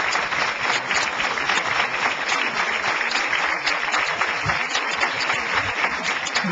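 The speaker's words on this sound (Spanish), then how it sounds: "Yo les gustaría que se pusieran de pie, que le dieran un fuerte" Audience applause rises for high school students from Escuela Superior de Yauco as they stand, a dense, steady wash of many hands clapping that holds at full strength throughout without letting up.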